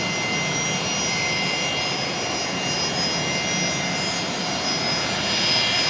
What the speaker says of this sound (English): The noisy Fokker here just arriving from Gladstone